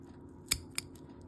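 Scissors snip off a bluegill's heavy-boned pectoral fins during taxidermy skinning, two sharp close clips about a quarter second apart, followed by a fainter third.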